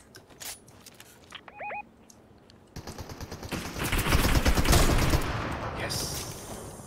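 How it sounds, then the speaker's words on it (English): Bursts of rapid video game gunfire crackle and build into a dense, loud barrage, with a few scattered shots and faint chirps beforehand. "I definitely heard more gunfire nearby."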